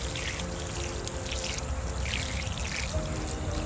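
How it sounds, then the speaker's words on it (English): Water from a garden hose runs steadily outdoors as mosaic grouting tools are rinsed off, a continuous close pouring and trickling sound with no talk. "you never want to clean up your tools at the sink, so I come outside and use my hose"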